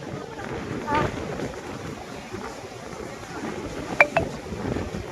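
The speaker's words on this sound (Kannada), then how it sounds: "ತುಂಬ ಗಾಳಿ ಇದೆ ಅದಕ್ಕೆ" Wind rumbles and buffets the microphone in low gusts at a Chennai beach, with brief voices and a few sharp clicks over it.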